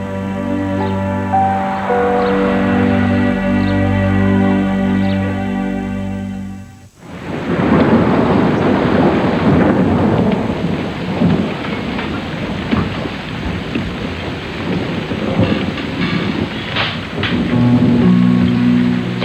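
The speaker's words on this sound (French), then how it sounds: "La pluie se mit à tomber dans la nuit." Heavy rain pours down at night, loud and continuous, its broadband hiss filling the scene after a sudden break, with low rumbles of thunder underneath.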